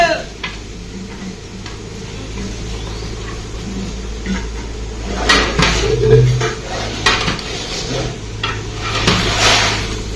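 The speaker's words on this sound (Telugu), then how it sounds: "ఆలుగడ్డ వేస్తున్నా ఇరవై ఐదు కేజీలు" About 25 kg of potatoes tipped into a big cooking pot for a Telangana potato-tomato curry, with clattering metal pot knocks and scraping clinks that grow louder in the second half, faint speech in the background.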